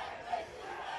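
A crowd cheering at a professional motocross race, a broad sustained roar of many voices with a brief louder shout rising out of it, continuous and fairly distant.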